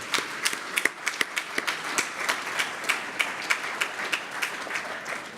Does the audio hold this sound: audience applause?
yes